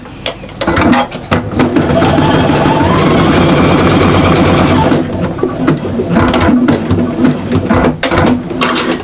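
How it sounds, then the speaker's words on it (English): A domestic sewing machine runs steadily, zigzag stitching to neaten and strengthen the seam of a fabric shopper bag, a close, loud, continuous mechanical whirr with rapid needle clatter that pauses briefly and restarts. "you can go back with zigzag just to neaten strengthen the stitching"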